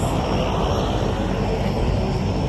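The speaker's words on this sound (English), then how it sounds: "I'm just walking to the plane now." An airplane engine at a St. Maarten airport gives a steady, loud roar with a high whine on top that holds without change throughout.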